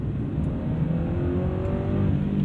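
A 2016 Toyota GRMN86 engine revs steadily and loudly from inside the cabin, a continuous rising drone with no voices over it.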